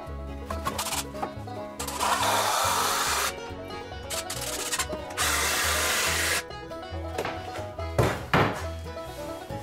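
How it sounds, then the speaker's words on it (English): Construction screws are driven into wood with a power drill while building roller coaster track supports. Several loud whirring bursts of varying length come close by, separated by brief pauses and clicks. "Construction screws in the bottom."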